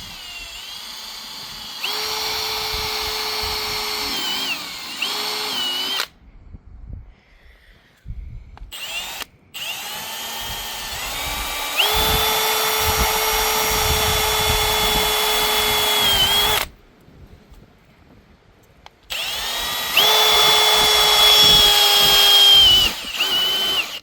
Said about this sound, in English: Just gonna take the drill and drill this out.